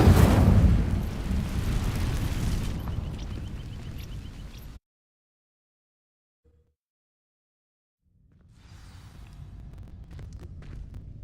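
The Incendio fire spell in Hogwarts Legacy erupts as a loud, roaring burst of flame that fades away, followed by several seconds of silence and then a low, rumbling ambience.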